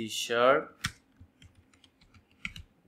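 Keyboard keys clicking in a short, sparse run of taps after a brief burst of voice, light and close while C# code is typed.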